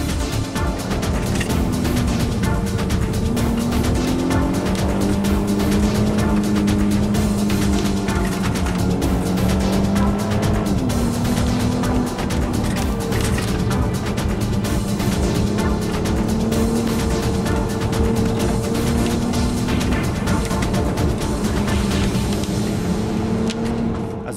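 A Nissan R32 drives a mountain road near Marysville, its engine droning loud and steady for the whole stretch, pitch rising and falling through gear changes and revs.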